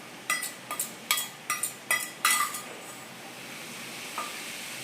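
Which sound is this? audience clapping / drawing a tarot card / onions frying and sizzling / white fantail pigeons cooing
onions frying and sizzling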